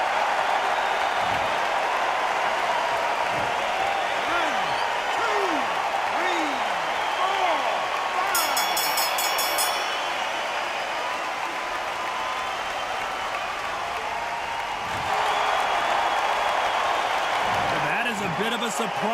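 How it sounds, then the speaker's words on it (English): A boxing arena crowd in the Undisputed video game roars and murmurs in discontent after a Deontay Wilder versus Muhammad Ali bout ends in a draw, a dense, sustained wall of noise with commentators talking over it. "Ooh, listen to that crowd. Nobody's happy with that."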